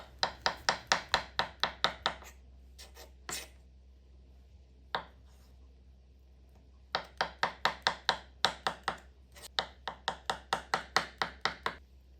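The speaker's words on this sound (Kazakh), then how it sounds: "Суға піскен жұмыртқаларды турап аламыз." Boiled eggs are chopped with a knife on a board for a salad: fast, rhythmic runs of crisp chops, separated by a pause with a few single knocks in between.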